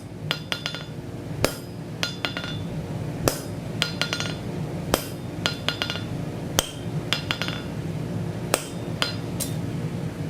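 Hammer driving a punch into cooling steel against an anvil, sharp metallic clinks struck in irregular clusters over a steady low rumble from the forge, fairly close and with no talking.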